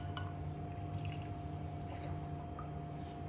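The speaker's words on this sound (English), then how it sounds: "And now I'm gonna pour the hot water in like this." Hot water is poured into a container in a steady, close, quiet trickle that runs for a few seconds, with faint splashes and a low background hum.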